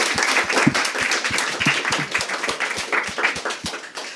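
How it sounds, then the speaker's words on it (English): Audience applause for a panel at a London conference, a dense wash of many hands clapping steadily for about four seconds, with a few louder individual claps standing out near the front. "So why don't we give them a round of applause"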